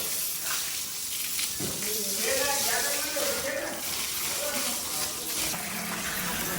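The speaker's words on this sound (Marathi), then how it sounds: "कॅन भरून घेतोय बघा" Borewell water pours steadily into a can at an evening dairy farm, a continuous splashing rush that stays loud for the whole stretch.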